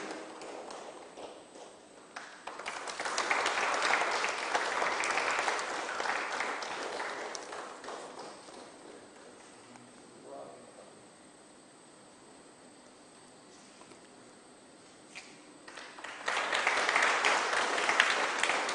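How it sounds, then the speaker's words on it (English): Audience applause at the formal inauguration of an orientation programme for major port officers, a loud round of clapping that fades to a quiet lull before a second burst swells up near the end. "with a round of applause for the formal inauguration and the start of this beautiful program"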